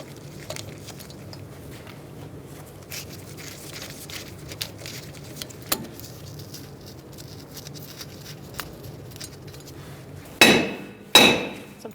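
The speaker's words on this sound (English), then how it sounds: "Sometimes you got to give it a good whack right around here because the rust gets to it." A hammer strikes the rusted rear brake drum of a 2012-2017 Hyundai Accent, with two loud close metallic whacks near the end after quiet faint tapping and shuffling.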